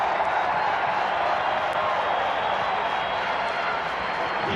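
Crowd at a 1995 professional indoor lacrosse game between Baltimore and Philadelphia, a sustained arena roar of cheering and scattered applause, steady and loud throughout the moment.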